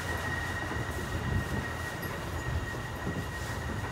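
A Kobe Port Liner 2000 series train runs with a steady rumble of wheels and motor heard from inside the car, a constant hum with faint clicks and no talk over it.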